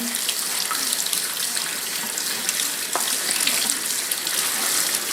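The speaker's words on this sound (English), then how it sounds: "here I have some strawberries. And I'm just going to rinse them." Fresh strawberries rinsed under a running kitchen tap, a steady, loud rush of water splashing into the sink without a break.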